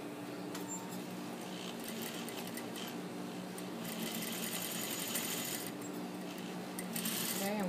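A sewing machine stitches fabric along a fold at the center of the presser foot, giving a steady, close, whirring hum with a fast mechanical patter that grows slightly louder toward the end.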